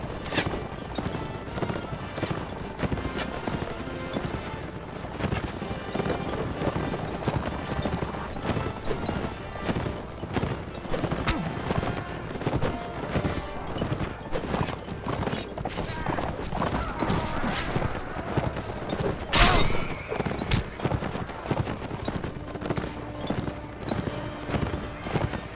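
Continuous rhythmic hoofbeats of galloping horses with occasional whinnies in the video game Mount & Blade: Warband, busy and close, alongside a speaking voice and game-like sounds.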